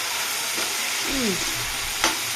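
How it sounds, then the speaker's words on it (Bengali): Tomatoes frying with turmeric in a pan give a loud, continuous close sizzle, with a brief spoon scrape and a sharp clack near the end, no talking. "এবার এটাকে ভেজে নেবে ভালো করে একটু হলুদ দিয়ে ভালো করে ভেজে নেবে"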